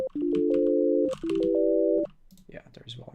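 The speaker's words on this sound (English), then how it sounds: "this would be a sine wave" Synthesizer oscillator set to a sine wave, played as pure steady sustained tones in two held chords of about a second each, loud and clean, with someone talking briefly between and after them.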